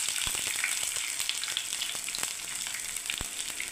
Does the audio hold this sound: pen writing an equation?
no